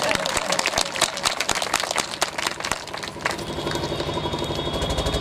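An outdoor crowd welcoming a state legislator during a cultural procession gives brisk, scattered clapping for several seconds, which gives way to a steady engine-like hum with voices underneath.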